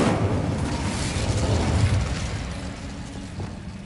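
The Incendio fire spell is cast in Hogwarts Legacy, a dense whooshing burst of flame that starts loud and slowly fades over a few seconds.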